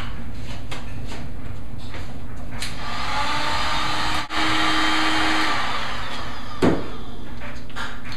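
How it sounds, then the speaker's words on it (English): A heat gun blows on Kydex plastic, a close, loud rushing whir that swells and holds, broken by a brief dropout and a few handling knocks and clicks, with no one speaking. "So I'm going to have to use the heat gun to heat the thing up."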